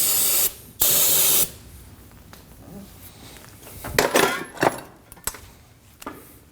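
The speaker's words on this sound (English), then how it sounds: "I'm just going to use a little brake parts cleaner." Brake parts cleaner sprayed from an aerosol can while a Subaru Baja's inner tie rod is being replaced, in two loud hissing bursts, followed by clicks and clatter of parts being handled.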